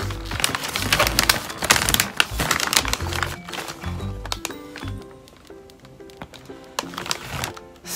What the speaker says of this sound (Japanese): この包装紙ね、もうガサガサっといっちゃいましょう